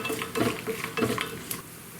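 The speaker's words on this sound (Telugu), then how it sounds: "బాదము జీడిపప్పు వేయించుకోవాలి." Almonds and cashews roasting in a pan, stirred so the nuts rattle and scrape against the metal in short clustered bursts over a soft sizzle, close up with no talking.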